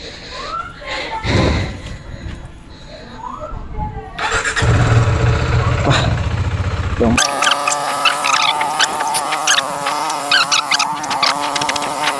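A KTM Duke 390 motorcycle engine starts up after a few thumps and then idles loudly and steadily nearby, with a rough, pulsing tone and a voice talking briefly early on.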